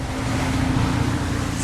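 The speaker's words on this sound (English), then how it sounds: "So you can hear the ocean in the background." Steady broadband wash of ocean waves and wind on the Bali Sea, heard from aboard a boat in Indonesia, loud and continuous with a low motor-like hum underneath and no talking.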